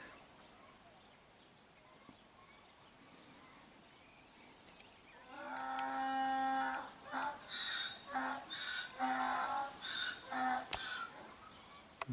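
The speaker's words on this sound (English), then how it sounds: "So obviously some donkeys over there." Donkeys bray on a hillside near a hill fort at Monachil, a series of harmonic hee-haw calls starting about midway through, fairly loud but somewhat distant, repeating in irregular bursts over faint outdoor background.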